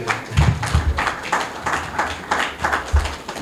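An audience at an entrepreneurship gathering applauds a moderator being welcomed, with uneven clapping pulsing throughout and a low voice or rumble murmuring underneath.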